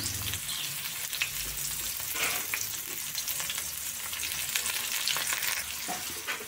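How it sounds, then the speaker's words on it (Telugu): Sliced onions, green chillies and curry leaves frying in oil make a continuous sizzle, broken by scraping stirs of a spoon against the pan and a few sharper clatters, with no voices. "ఉల్లిపాయలు బ్రౌన్ కలర్ వచ్చే వరకు వేపుకోండి"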